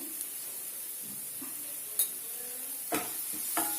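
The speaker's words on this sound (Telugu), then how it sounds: "వేసుకొని ఒకసారి కలపండి" Fried potatoes with a pinch of turmeric are stirred in a pan for egg curry: a faint steady sizzle with a few soft scrapes and clinks of a utensil, no talk.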